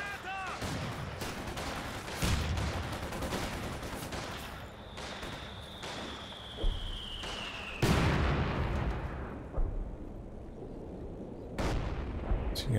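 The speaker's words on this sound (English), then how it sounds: "Light artillery barrage ready to launch." Light artillery barrage in Company of Heroes 2, a volley of sharp blasts and booms scattered across the scene over rumbling battle noise, with a whistling incoming shell sliding down in pitch and a commentator talking over it.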